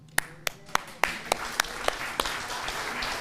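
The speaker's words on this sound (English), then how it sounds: "we'll take a round of applause for the grounds team" A congregation at a Sunday worship service claps for the grounds team, producing sparse, evenly spaced hand claps that land roughly every third of a second over a low room murmur.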